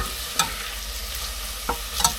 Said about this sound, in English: So it just sizzles away